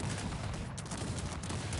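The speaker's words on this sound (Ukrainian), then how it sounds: "Багатоствол стріляє" A multi-barrel cannon fires in the Cossacks strategy game during a competitive match, a dense, continuous rattling volley of overlapping gunshots that stays loud and unbroken throughout.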